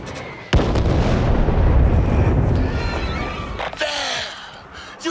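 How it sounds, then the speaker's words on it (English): A flashbang going off in the zombie co-op shooter Back 4 Blood, a sudden loud boom followed by a sustained roaring rumble that decays over several seconds, with a short whooshing burst afterward. "Flashbang!"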